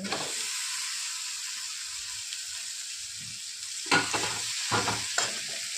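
Ingredients for wheat-flour rolls sauté in a pan with a steady, even sizzling hiss close up, broken by a few louder stirring scrapes toward the end, with no talking.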